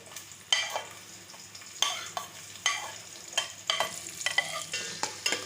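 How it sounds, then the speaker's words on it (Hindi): Chopped onions fry in a pan for a dhaba-style moong dal, a soft steady sizzle broken by repeated sharp scraping strokes of a spoon stirring them, close and clear with no talk. "देखिए, प्याज ऐड कर रहे हैं हम इसमें।"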